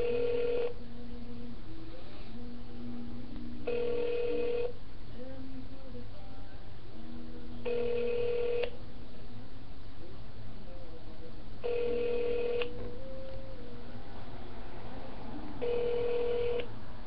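A telephone ringback tone heard down the line after a call transfer, rung out unanswered as evenly spaced bursts about every four seconds over a hissy, muffled phone-line background.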